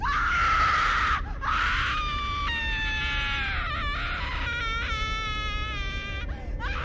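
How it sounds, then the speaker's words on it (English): A loud, piercing scream rises and wavers, broken by brief pauses, then continues in shrill, trembling bursts. "you could hear Wendy's blood-curdling scream"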